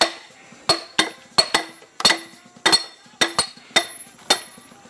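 A hammer strikes a chisel again and again in sharp, ringing metallic clinks, about a dozen close, uneven blows with short decays between them.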